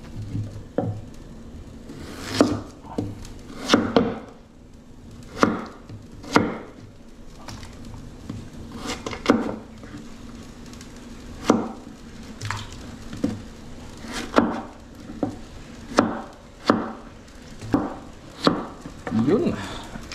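A knife slices a peeled vegetable on a board in a home kitchen. The chops land close and distinct, in an uneven rhythm of about twenty over the stretch, with a quiet background between them.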